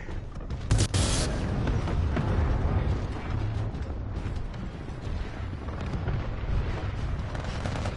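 Continuous rattling gunfire and booming blasts in a video-game battle, loud and dense throughout with no pause, a sharp burst standing out near the start.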